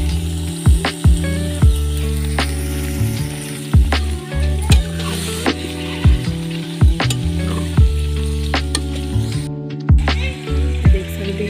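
Chicken and rice with peas being fried in a pan, loud close sizzling with repeated sharp metallic scrapes and clicks from stirring at a quick, irregular rhythm.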